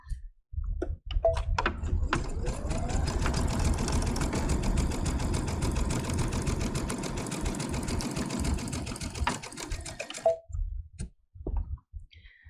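A domestic sewing machine stitches elastic in one continuous run, its motor whirring with a steady rapid needle rhythm up close, briefly pausing and then speeding up before stopping.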